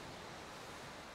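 Steady broadband rush of water and waves from The Witcher 3, a continuous wash of surf-like noise with wind-like hiss, even and unbroken throughout with no talking.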